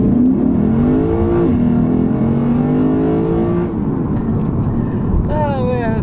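A 2022 Lexus RC F Fuji Speedway Edition engine revs and pulls hard under acceleration, pitch rising steadily, loud and close, with someone talking over it throughout.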